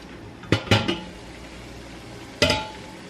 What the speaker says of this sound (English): I'm ready to get these jars into my canner